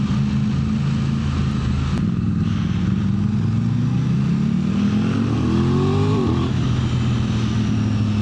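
An RS 660 motorcycle engine droning loudly with a rising then falling pitch as it rides alongside and passes, steady road noise throughout.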